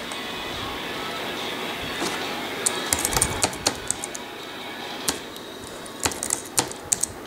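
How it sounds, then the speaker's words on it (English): Typing on a laptop keyboard connected to an Acer Iconia W4 tablet, a run of irregular sharp key clicks and taps grouped in bursts over a steady background hiss, fairly close and moderately loud. "type some dummy data"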